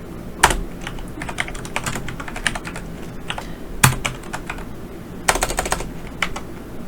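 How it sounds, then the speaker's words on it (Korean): Rapid keystrokes on a computer keyboard while data is typed into an Excel table, a dense run of clicky taps with a few louder strikes, close and steady with no voice. "표를 타이핑하기를 시작할 겁니다"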